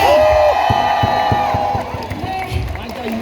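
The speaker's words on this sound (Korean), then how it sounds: "박수 부탁드립니다" A large stadium crowd at a Hanwha Eagles baseball game cheers and whoops over loud stadium music, with a rhythmic beat and scattered shouts.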